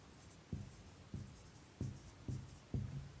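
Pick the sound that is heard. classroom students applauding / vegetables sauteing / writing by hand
writing by hand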